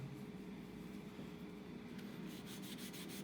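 A flannel cloth rubs over a marker and pastel drawing on paper, a soft, steady scrubbing that holds quietly throughout and turns into a rhythmic back-and-forth near the end, with no voices.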